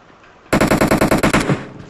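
Automatic gunfire in the video game PUBG, a sharp burst of about ten rapid, evenly spaced loud shots lasting around a second, then a short ringing tail.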